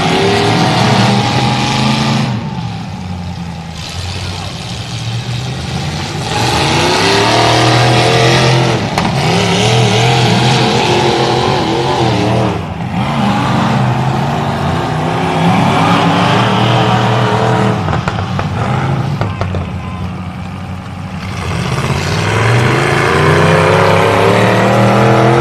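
Trucks roar and rev their engines at a demolition derby, a loud, continuous blend of several motors rising and falling in pitch as they accelerate, with brief dips between surges.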